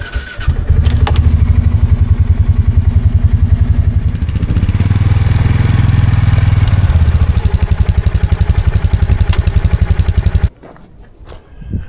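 A John Deere 1025R compact tractor engine cranks and catches, then runs with a loud, steady, rapid diesel clatter for about ten seconds before cutting off abruptly.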